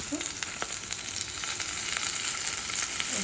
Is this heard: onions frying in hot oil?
yes